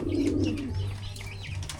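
Pigeons coo softly in a backyard coop during a morning routine. Low, rolling calls repeat against light chirps and faint background noise, with no one speaking.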